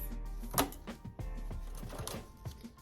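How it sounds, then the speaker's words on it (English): A regular home sewing machine stitches African print fabric for a kufi, a close mechanical whirr with rapid rhythmic ticking pulses, loud and steady over a short burst. "So now I'm going to sew this down up here so I can cut off the excess."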